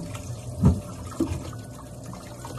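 Cassava root, trimmed of rotten bits, is swished and rinsed in a basin of water for cassava puto, giving two soft splashing sloshes over a low, steady wet background.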